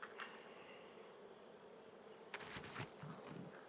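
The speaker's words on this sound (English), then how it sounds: "Looks like a lot of bees." Honey bees from a fall swarm colony buzz softly on a hive frame, a low, steady drone with a few closer, louder buzzes passing near the end.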